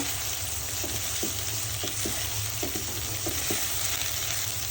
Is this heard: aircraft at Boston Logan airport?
no